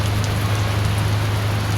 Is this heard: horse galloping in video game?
no